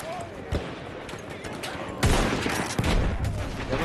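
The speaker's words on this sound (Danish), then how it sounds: "Jeg får skudt bagfra." Gunfire in a first-person shooter video game, with bursts of shots cutting in sharply and a heavier, sustained volley in the second half, heard over ongoing game noise while a person talks.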